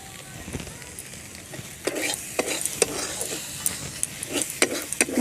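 Chicken being stirred with garam masala in a pan, with a steady low sizzle and scattered scraping strokes that grow more frequent toward the end, heard close with no talking.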